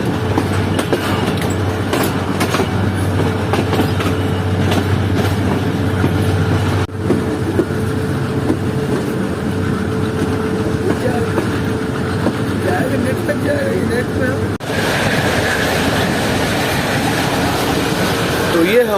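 Steady, loud rolling rumble and rail clatter of a Pakistani passenger train, the Zikriya Express between Karachi and Multan, with shifts in the din as other trains overtake it on the line.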